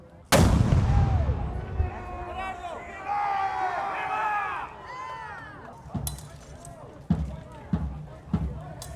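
Musket fire from skirmishers at a Drake's Raid reenactment in St Augustine: a loud, booming opening shot that rolls away, then several sharper single shots spaced apart, with crowd noise and talk underneath.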